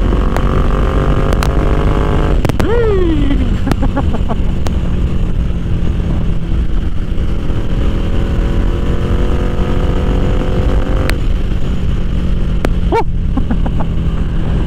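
A Ducati Diavel 1260 motorcycle on a solo ride, its engine a loud, steady drone throughout, with brief rising revs near the start and again toward the end.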